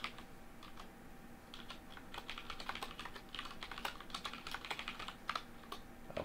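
Steady, fairly quiet clatter of fingers typing on a computer keyboard while coding a chess engine, with rapid uneven key taps running throughout and no voices.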